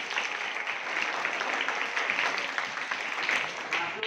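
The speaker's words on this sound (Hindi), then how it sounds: "जरा आप लोग ताली बजाओ हाथ में" Students clapping their hands together during a classroom magic demonstration, a dense steady patter of applause that runs for the whole stretch at a moderate level.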